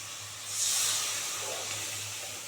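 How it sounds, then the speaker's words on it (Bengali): Rinse water from a mixer is poured into a hot pan of spicy fish curry base, producing a sharp steam hiss that swells quickly, then settles into a softer simmering sizzle. "এবারে মিক্সি ধোয়া জলটা দিয়ে দিচ্ছি"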